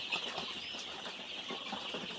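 Young hybrid Sonali chickens crowded in a poultry shed, a dense, steady murmur of chirps and peeping calls, fairly close and continuous, with a few louder cheeps rising above the flock.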